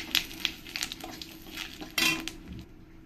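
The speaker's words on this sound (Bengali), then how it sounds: "এবার আমি এই তেলের মধ্যে কটা জিরে দিয়ে দেব" Cumin seeds, dried chilli and bay leaf hit hot oil for a Bengali fish curry, a brief crackling sizzle broken by sharp clinks of a metal spoon against the pan, close and fairly quiet.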